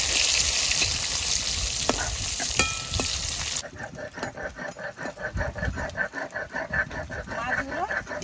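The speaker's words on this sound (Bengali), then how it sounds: "মাছগুলো একদম লাল লাল করে ভেজে নিচ্ছি" Pieces of katla fish frying in hot oil at an outdoor wedding-style cooking setup, with a steady loud sizzle and hiss, stirring knocks, and background voices mixed in.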